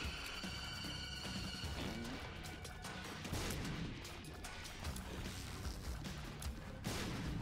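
Bombs go off in The Binding of Isaac Repentance amid a dense, continuous din of game blasts, thuds and crashes layered over background music, loud and busy from start to finish with no pauses.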